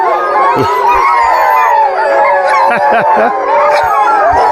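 Sled dogs in Canada howl and yelp in a loud, overlapping chorus before a dog sled run, many voices rising and falling continuously with barks cutting through.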